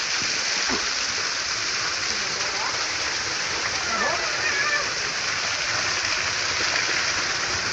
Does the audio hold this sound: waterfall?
yes